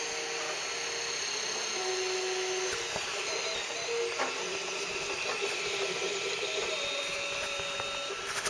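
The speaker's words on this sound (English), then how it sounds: "This is printing on our Glacier Steel 1616." A 3D printer's metal print head runs on a Glacier Steel 1616 bed, giving a steady close whirring hum with brief tonal motor whines and light clicks, alone without speech.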